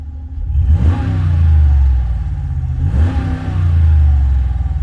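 A 5.7 Hemi V8 in a 2022 Jeep Wagoneer Series 2 revs twice in quick succession, deep rumbling exhaust rising and settling, close and loud with no voices.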